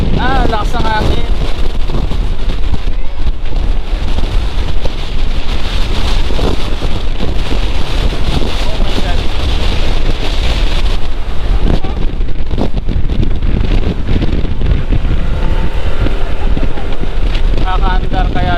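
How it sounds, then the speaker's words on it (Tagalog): Strong wind buffeting the microphone on a motorcycle ride in a constant roar, with water and engine noise underneath and people talking intermittently. "Lakas ng hangin."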